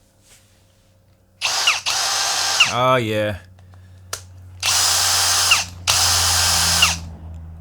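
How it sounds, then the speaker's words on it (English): A cordless drill running on a Milwaukee M18 battery whirs in several short bursts, revving up and down, with a brief voice in between and a low hum throughout. "We happen to have a drill sitting right here."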